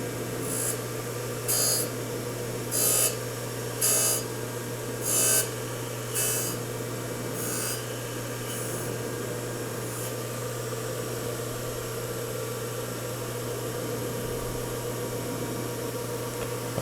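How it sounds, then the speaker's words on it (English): A CNC grinder takes a light dusting pass across a workpiece, a steady machine whir with a series of evenly spaced hissing bursts that fade out partway through, under a constant low hum. "we should be able to just take a dusting pass across the workpiece"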